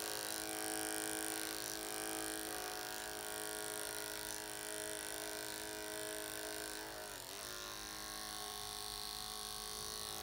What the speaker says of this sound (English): So whether I use a clipper or a scissor, the only reason why I'm using a clipper is for this.